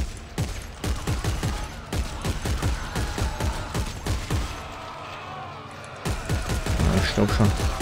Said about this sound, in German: die haben ziemlich fiese Schüsse geschossen